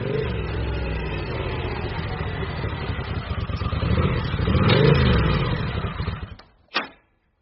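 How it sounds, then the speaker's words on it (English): A motorcycle engine rumbles steadily and swells as it approaches and pulls up outside a house in the evening, then cuts off, followed by a short sharp knock or clunk, a radio drama sound effect. "there came the sound of a motorcycle pulling up outside Horatio Salazar's house."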